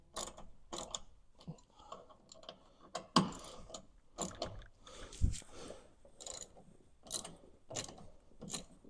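Ratcheting clicks and mechanical ticks from a Seizmik mirror mount being tightened down on a Segway handhold, coming in quick close bursts with short pauses, faint and alone.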